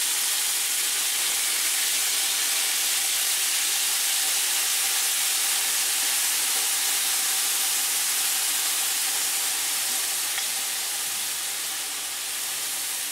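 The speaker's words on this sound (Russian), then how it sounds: "Я добавляю соевый соус." Soy sauce sizzling on frying chicken in a kazan: a loud, steady, close hiss that holds without break and eases slightly near the end, no voices.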